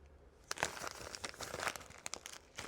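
A small plastic mailer bag crinkles and rustles close up as a crocheted bucket hat is folded and packed inside, with irregular crisp bursts of handling noise.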